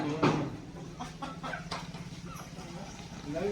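Free-range village chickens cluck in short, repeated bursts nearby on a farm, with one louder squawk early on and faint voices in the background.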